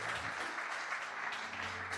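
A church congregation applauds, a steady wash of clapping from many hands at moderate level, continuous and even for about two seconds with a faint held musical tone underneath.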